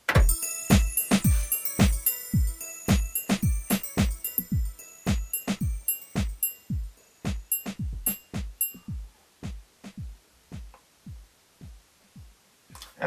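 Hip hop drum kit in a music production, a steady pattern of punchy kick hits with snappy clicks and some jingly percussion on top, looping evenly and growing slightly thinner toward the end.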